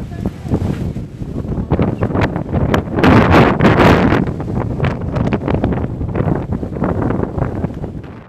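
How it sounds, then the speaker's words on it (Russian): Hurricane-force wind and heavy rain in Makhachkala, Dagestan, roaring and buffeting the microphone in loud gusts with a constant dense rush, swelling strongest midway through. "45-градусная жара сменилась ураганным ветром и проливным дождем."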